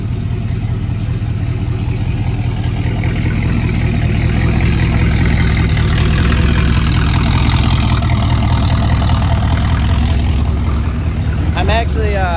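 A high-mileage car engine idles close by after an idle adjustment, a steady low rumble running evenly throughout, with someone talking over it and a brief higher-pitched chirp near the end.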